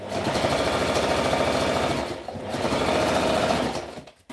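Sewing machine running steadily as it stitches the hem of a V-neck shirt, a loud continuous motor whir with rapid needle pulses, briefly slowing around the middle before resuming, then stopping at the end.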